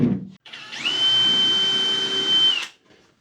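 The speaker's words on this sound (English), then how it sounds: "And then drive in a 2-inch screw." A power drill drives a 2-inch screw into wood, a near, loud steady whine held for about two seconds after a short start-up, then cutting off.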